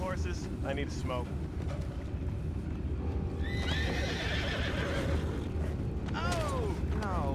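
Horses in Red Dead Redemption 2 whinny several times at close range over a steady bed of hoof clops and rumbling ambience, with shrill neighs rising early and again in the second half.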